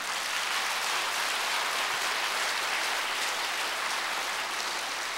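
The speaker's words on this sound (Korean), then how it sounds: "우리 다 같이 하나님께 영광의 박수를 보내겠습니다" A church congregation applauds in praise, a steady, even wash of many hands clapping that sounds somewhat distant and soft and continues unbroken without speech.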